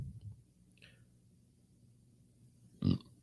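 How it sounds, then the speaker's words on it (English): A single short, close burp lands right into a microphone in a quiet room, preceded by faint small mouth noises and a brief soft squeak. "I burped in the microphone."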